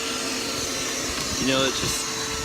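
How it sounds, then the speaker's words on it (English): A steady vacuum cleaner drone runs throughout, a continuous whooshing hum with a brief shift in pitch midway, close by and fairly quiet. "You can hear the vacuum."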